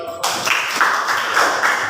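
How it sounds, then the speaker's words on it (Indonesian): Primary school class clapping together for a pupil after his answer, a steady burst of many small hands close by with little talk. "tepuk tangan dulu untuk Adik Hasbi"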